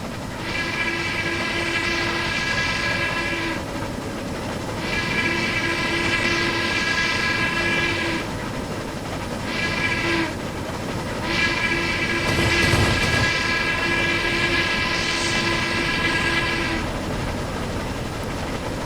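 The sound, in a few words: Harriman MC-1 2-8-8-2 steam locomotive running, Trainz 2019 video game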